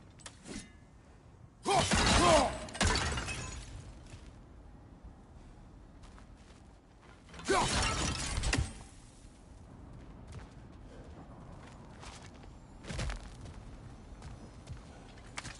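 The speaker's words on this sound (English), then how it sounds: "back to smashing through things for fun and profit" Objects smashed and broken apart in God of War Ragnarok, heard as three loud crashing bursts spread across the stretch, each followed by rattling debris, with quieter mechanical clatter between them.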